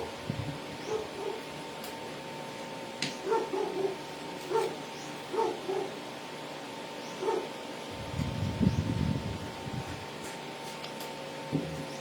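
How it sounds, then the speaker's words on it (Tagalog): A neighbor's dog barks in short, scattered yaps at middle distance, a few bursts spaced over several seconds, against a steady household hum and a brief rumbling noise near the end. "Ang ingay ng aso sa kapitbahay."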